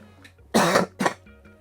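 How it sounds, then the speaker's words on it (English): Two sharp coughs, a longer harsh one followed by a shorter one, close and loud against quiet background. "Let me cough"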